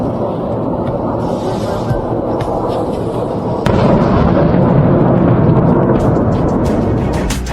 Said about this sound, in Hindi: देखिए ये बड़ा धमाका जिसकी तस्वीरें सामने आ रही है